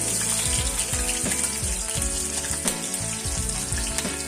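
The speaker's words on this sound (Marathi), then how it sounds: "मिरचीला थोडं फ्राय करून घेऊ" Green chillies sizzle steadily in hot oil tempered with cumin, a continuous loud crackling hiss with sharp pops scattered throughout and no talking.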